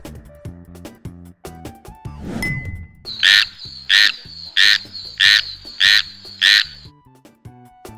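A frog croaks in a run of six evenly spaced, loud calls, each a short buzzy pulse, sounding close over soft background music.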